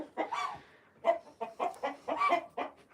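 Roosters on a ranch cluck in short, close, repeated bursts, about eight quick calls in an uneven rhythm, heard alone and fairly near.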